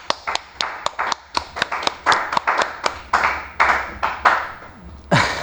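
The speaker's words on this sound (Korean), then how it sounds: "박수." Hands clap in applause during a technical drawing class on shaft dimensioning, a steady run of sharp, close claps from a small group that thins out and ends with a final burst.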